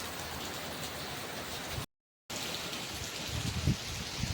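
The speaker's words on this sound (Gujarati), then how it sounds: "વરસાદ ધીમે ધીમે ચાલુ થયો છે જુઓ" Steady rain falls with some wind during a dark monsoon sowing day, a dense even patter on surfaces broken by a brief dropout, with a few louder drips near the end.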